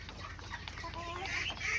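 Elba super laying hens, a kampung chicken breed, cluck in a low, continuous murmur with a few higher calls rising near the end, fairly quiet and close.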